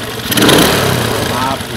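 A Suzuki Smash motorcycle with an idle fault runs close by, its engine note dropping after a brief rev as the throttle is released and then settling to a steady idle, loud and near, with a voice speaking over it.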